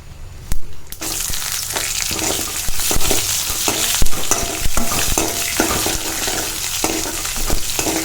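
Small onions sizzle steadily in hot oil while a utensil scrapes and clacks against the pan in irregular stirring strokes.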